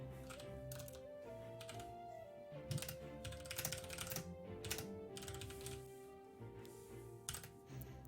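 Someone types on a computer keyboard, a run of light, uneven key clicks in short bursts over a soft background tone and music.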